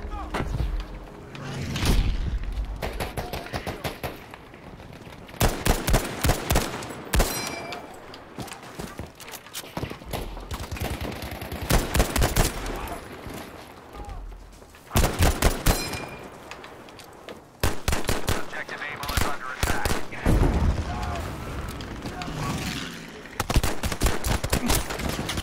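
M1 Garand rifle fire in the World War II shooter Battlefield 5, loud sharp cracks in scattered bursts among other distant gunfire and battle noise, some shots fired in quick succession across the whole stretch.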